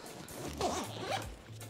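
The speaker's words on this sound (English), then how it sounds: "Do a quick zip here." A zipper on a Shimoda Action X70 camera bag is pulled open in one quick, close zip that rises over about a second against a quiet indoor background.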